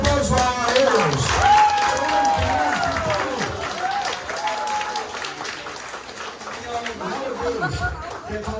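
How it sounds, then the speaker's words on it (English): A crowd at an outdoor police appreciation gathering in Little Saigon, Oakland applauds, with steady clapping mixed with cheering voices and chatter, fairly loud and gradually thinning out. "let's have a round of applause for our heroes"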